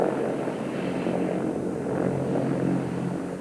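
A US Army attack helicopter flies at the 1993 International Air Tattoo air show, its loud, steady rotor and engine drone continuous with no talk.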